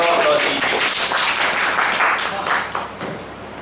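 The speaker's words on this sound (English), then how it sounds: "Round of applause, please." Audience applause at a public-speaking forum in India, steady clapping filling the room for a few seconds before tapering off slightly at the end.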